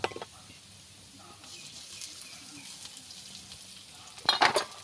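Crushed garlic, raw onion and slit chillies fry in oil with a low, even sizzle, and a few sharp clatters of a utensil against the pan break in near the end.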